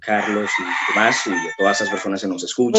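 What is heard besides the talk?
rooster crowing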